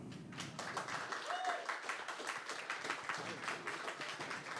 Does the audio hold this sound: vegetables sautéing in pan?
no